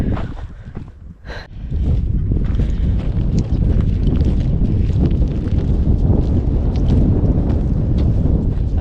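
Wind gusting beside a lake where a converted camper van is parked, a loud, continuous rumbling roar buffeting the microphone after a brief quieter moment at the start.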